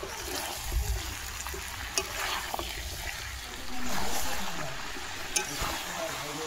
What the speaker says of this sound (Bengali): এখন আমি এর মধ্যে আগে থাকতে ভেজে রাখা আলুগুলো দিয়ে দেব, দিয়ে আরও 10 মিনিট খুব ভালোভাবে কষিয়ে নেব।